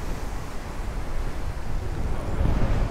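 A large Lagoon catamaran sails under code zero at about 9 knots in 18 knots of true wind with swell on the quarter; steady rushing wind and wash of waves fill the clip, growing slightly louder toward the end.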